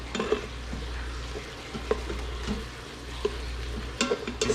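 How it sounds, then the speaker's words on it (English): Oxtails in an Instant Pot are given a quick stir, with soft sizzling under the sound of a spoon scraping and knocking against the pot several times. "And give this a quick stir."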